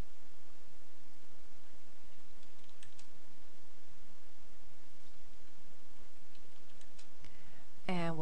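Computer keyboard typing while writing a LaTeX list, faint fast key ticks scattered through a steady hiss, with one brief louder sound near the end and a voice only barely present.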